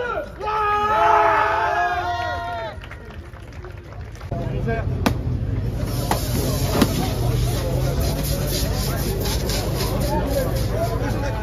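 A motocross crowd at the French MX2 Elite championship round in Bitche breaks into sustained, loud applause and cheering for the season's champion, rising after a stretch of speech and continuing as a dense wash of noise.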